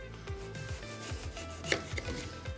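A knife slices into a lime wheel for a Gimlet cocktail, cutting just to the centre, giving a run of short, close, rhythmic chopping and rubbing strokes at a low, steady level.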